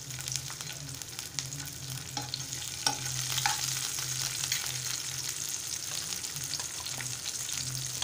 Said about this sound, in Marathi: आता आपण लसूण घालूया, नंतर हिरव्या मिरच्या घालूया,